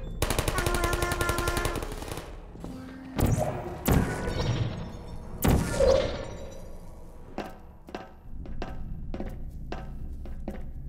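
Rocket launchers firing in the Portal video game, a burst of rapid loud mechanical bursts followed by several heavy booming blasts and scattered sharp thuds, fairly close and dominating with no talk over them.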